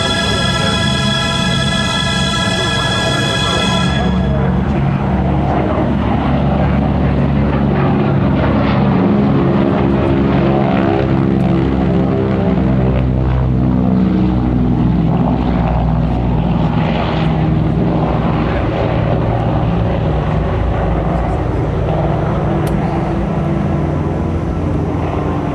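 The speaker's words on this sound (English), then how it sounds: "as we were listening to that, this constellation took off" A Lockheed Constellation propeller airliner takes off at Duxford, its piston engines building into a loud, sustained, throbbing roar that holds steady throughout.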